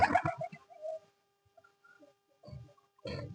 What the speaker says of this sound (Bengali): কত পায়রা বন্ধুরা, বাচ্চা বড়।